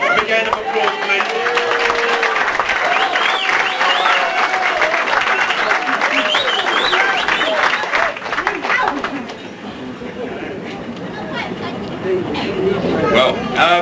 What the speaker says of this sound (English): A big hand of applause, please.